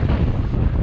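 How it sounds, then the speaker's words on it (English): Strong wind buffets the microphone on an outdoor mountain-bike trail ridden on a Trek Rail 9.8 e-bike, a loud, rough low roar that swells and dips over a short burst with no talking. "I'll not be getting big air today because it's just so darn windy"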